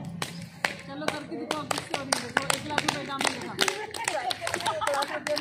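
Clapping for acupressure comes as a fast, irregular run of many sharp, close slaps. A voice talks intermittently underneath.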